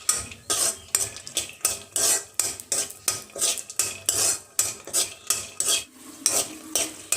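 Nuts fry in hot ghee in an iron kadai while a metal spatula scrapes and stirs them in a quick, regular rhythm. The close, clattering strokes ride over a soft sizzle, with no voices.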